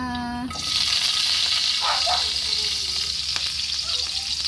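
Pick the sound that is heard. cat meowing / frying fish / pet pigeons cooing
frying fish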